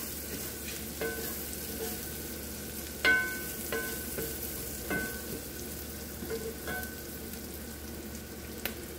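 Kielbasa browning in butter in a frying pan, a steady soft sizzle with scattered spatula clicks and scrapes, heard close with no talking.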